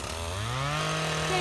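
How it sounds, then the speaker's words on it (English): A string trimmer (weed eater) runs steadily nearby, its engine whine rising in pitch as it revs up over a brief moment. "We're using some weed eaters."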